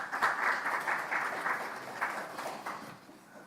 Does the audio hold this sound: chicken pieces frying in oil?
no